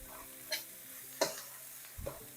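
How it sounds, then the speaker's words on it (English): Garlic and vegetables being stir-fried in a pan for shrimp fried rice, heard as three brief spatula scrapes and tosses over a faint, steady sizzle, with no talking. "you can go ahead and mix all of that in."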